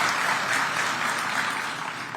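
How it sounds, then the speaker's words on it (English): Audience applause at a political speech event in Addis Ababa, Ethiopia: steady, dense clapping from a large crowd, loud and continuous throughout, with no talking over it. "So I think that needs to be applauded."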